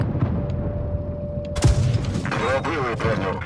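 Tank cannon fire in a tank video game: a sharp broadband boom about midway, followed by rumbling battle noise and mechanical clatter, with game sounds running throughout.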